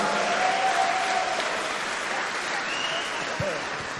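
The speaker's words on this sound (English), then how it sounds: "I think you should give yourself a round of applause for being here now." Audience applause at a Bonofa event fills the room as a steady, dense wash of clapping that holds at an even level for the whole stretch, with a few voices faintly mixed in.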